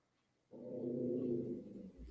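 A pet dog growls quietly indoors with a low, steady, rumbling growl that starts abruptly and holds for about a second and a half before tapering off. No one speaks over it.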